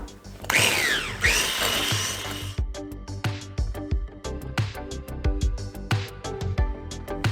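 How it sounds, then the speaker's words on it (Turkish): An electric mixer whipping butter and brown sugar, a loud steady whirring drone at first, then uneven bursts of beater clatter and knocks against the bowl, close up with no talking. "İkisini krem gibi olana dek yani yaklaşık 3-4 dakika bu şekilde çırpacağım karıştırarak"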